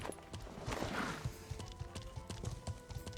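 Horse hooves clip-clop at a steady riding pace in the game Life is Feudal, the thuds repeating rhythmically over a constant low ambient bed with no talk.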